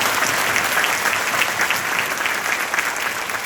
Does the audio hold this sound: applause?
yes